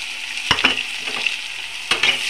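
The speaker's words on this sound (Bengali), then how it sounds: "পেঁয়াজকে লাল লাল করে ভেজে নেব" Chopped onions with bay leaf sizzle and fry in a pan for chicken kosa, a steady hiss broken by a few sharp stirring scrapes, close and with no talking.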